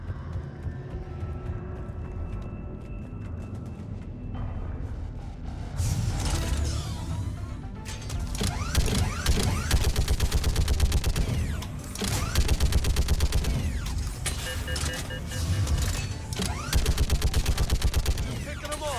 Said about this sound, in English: And now for the mandatory turret section that I hate.